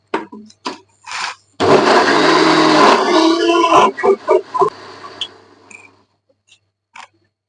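A mixer grinder whirs loudly for a couple of seconds while grinding tomato and masala for fish curry, then stops, followed by scattered clatter and a few short knocks.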